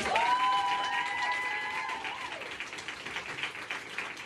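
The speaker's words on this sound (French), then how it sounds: "Applaudissez-vous encore une fois." An audience at a live French-language show applauds after being asked to cheer themselves, a broad wash of clapping that starts loud and eases over a few seconds, with a sustained whistle-like tone over the first two seconds.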